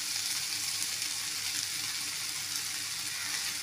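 Grated coconut tumbles into a pan of broad beans frying, bringing a steady close sizzle with a watery hiss and faint stirring, and nobody speaks.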